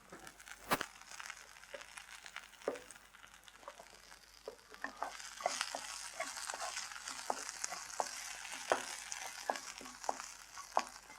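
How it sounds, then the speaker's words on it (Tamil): Shallots and coconut sautéing in a pan, a steady low sizzle with frequent crackles and stirring scrapes, close and moderately quiet, with no voices. "ஸோ சின்ன வெங்காயமும் தேங்காயும் வந்து ஓரளவுக்கு வதங்கிடுச்சு"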